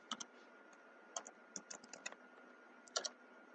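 A computer keyboard is typed on in short, scattered bursts of crisp clicks, close but quiet, with gaps between the keystrokes and no talking.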